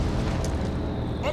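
A mortar blast in the World War II strategy game Company of Heroes 2 on the Stalingrad mission, a dense low rumbling explosion amid ongoing battle noise, with speech over it.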